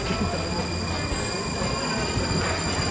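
A Prague metro train in motion gives a continuous loud roar of wheels on rail with high steady squealing tones, close and sustained throughout, with no talk.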